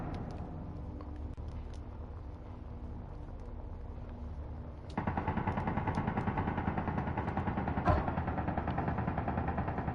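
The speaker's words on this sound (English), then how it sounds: "whatever that is, it's shooting at us" An unknown attacker opens fire with a sudden sustained rattling barrage halfway through, replacing a low rumbling ambience; dense, steady automatic shots continue with one louder crack near the end.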